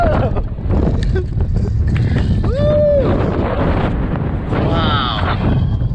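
Strong Hurricane Dorian wind roars continuously and close, buffeting the microphone with heavy low rumble, while a small drone whines through it and a voice speaks over the gusts.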